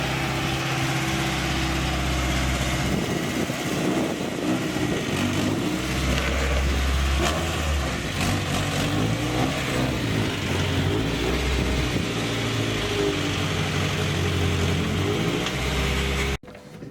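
A car engine idling high, around 2,500 rpm, with an exhaust leak and a loose muffler, a loud steady close rumble that holds throughout before cutting off abruptly at the end.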